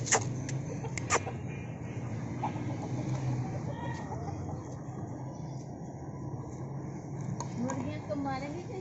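Chickens clucking nearby in a domestic yard, repeated soft clucks and squawks spread throughout, with people talking over them.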